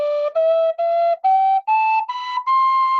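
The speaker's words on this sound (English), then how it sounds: "This is the one of a brass instrument from West Sumatra." A traditional seven-hole wind instrument from West Sumatra plays a clear, whistle-like rising scale of about seven separate notes. It is close and alone.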